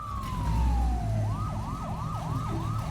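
A siren sweeps down in a long wail, then switches to a fast, repeating yelp, loud and close.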